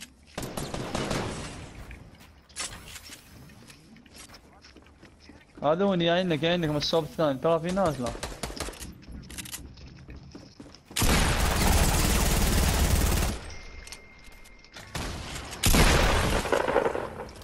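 Gunfire in a Fortnite squad match: several loud bursts of shots and blasts come in separate clusters, with players talking over the action throughout.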